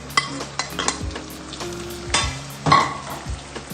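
Chopped onion sautéing in a pan with ginger-garlic paste for a prawn roast, a steady sizzle broken by repeated scrapes and clinks of a spoon stirring against the pan.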